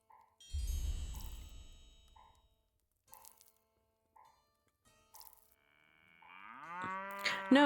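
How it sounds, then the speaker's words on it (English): A black bull pet in the online game The Lord of the Rings Online lets out a deep, drawn-out moo near the end, following sparse soft chimes and a low rumble amid quiet pauses. "There's a whole cow in here."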